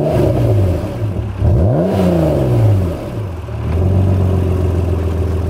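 A 2005 Acura NSX NA2 in Long Beach Blue Pearl, its 290-horsepower engine revving up through the gears, pitch climbing and dropping at each shift, loud and close with no voices.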